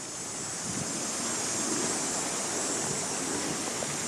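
Fountains and a splash pad in a town park on Main Street in Brampton, Ontario, give off a steady, close rush of splashing water that fills the whole moment without any talk.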